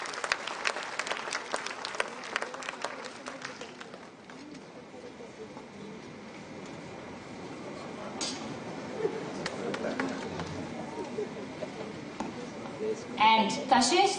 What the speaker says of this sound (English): Please, a huge round of applause for her.